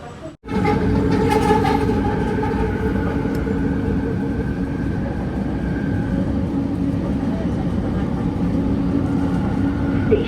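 A loud, continuous rumble of a train running in Kuala Lumpur, Malaysia, with a sharp onset and steady mechanical hum and hiss throughout.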